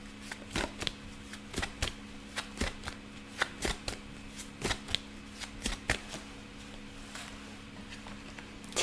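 A deck of tarot cards is shuffled close up, a steady run of crisp riffling slaps repeating about once a second, clear and unaccompanied by talk.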